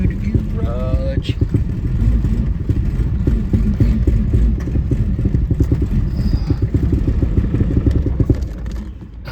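An Eagle motorcycle engine running in a garage, a loud close-up chugging idle with rapid rhythmic firing pulses and mechanical clatter that holds steady throughout.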